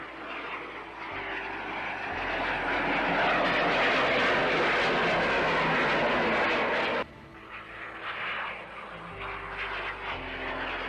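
Aerobatic display planes of the Esquadrilha da Fumaça roar loudly with a steady, close engine drone that swells, cuts off abruptly partway through and then continues at a lower level.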